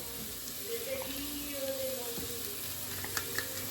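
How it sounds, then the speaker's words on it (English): Mushrooms sautéing in a pan, a soft, steady sizzle with faint hissing and occasional small pops, with brief voice tones heard faintly underneath. "And we want our mushrooms in there. And we're just going to let these saute for a little bit."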